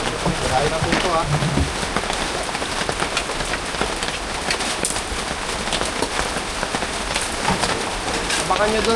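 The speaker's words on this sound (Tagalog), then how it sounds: "palakas ulit ang ulan" Heavy rain pours steadily and loudly, a dense continuous hiss of drops hitting surfaces close by.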